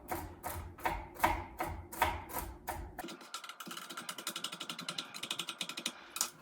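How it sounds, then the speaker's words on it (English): Rapid knife chops roughly cutting nuts on a wooden board, slower heavy strikes at first, then a quicker, lighter run of crisp chopping, close up. "just give them a really rough chop up"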